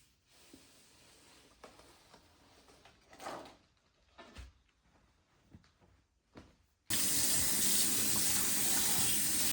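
Handling clatter and a few thumps, then a cyanotype-dyed t-shirt rinsed under a kitchen tap, loud steady running water gushing close by with no talk.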